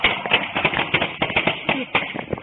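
Rapid, sharp bangs of gunfire ring out in bursts during a police pursuit of kidnapping suspects, loud and close with irregular spacing between shots.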